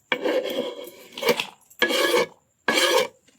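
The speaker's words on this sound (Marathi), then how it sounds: "कांदा वगैरे कापून घ्यायचं सगळं." Onion cut with a knife on a cutting board, heard as three or four close, scraping bursts separated by short silences, with no talking.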